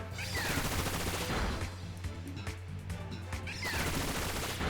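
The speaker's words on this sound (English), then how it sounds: "There we go, Bullet Seed takes it out in one." Bullet Seed, a grass-type move, in Pokémon Scarlet, hitting four times: a dense, loud clatter of rapid popping impacts over steady game music, continuing throughout with brief swells.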